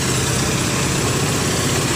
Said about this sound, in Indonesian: Itu ada mesin penggilingan atau mesin perontok seperti itu